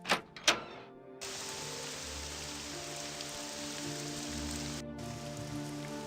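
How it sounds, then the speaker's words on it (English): Rain falling in the fantasy role-playing game The Elder Scrolls III: Morrowind, a steady, even hiss of a downpour that begins after a few short clicks and carries on alone. "I'm tired of this rain."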